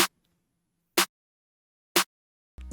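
Simple FL Studio snare pattern with an EQ boosting the mid-low range: two evenly spaced, punchy snare cracks with added low body, alone, before another sound cuts in at the end.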